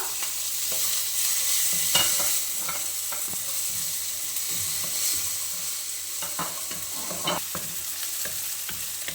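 Tomatoes are stirred and mixed into a sizzling frying pan, with close, repeated scrapes and clacks of a spoon over a continuous fry hiss.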